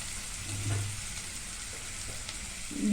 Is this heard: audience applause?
no